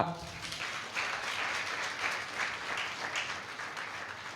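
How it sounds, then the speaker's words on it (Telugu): A church congregation at a training programme in Palakonda claps hard and continuously, a steady wash of applause lasting several seconds with a voice briefly at the start. "క్లాప్స్ కొట్టాలి గట్టిగా."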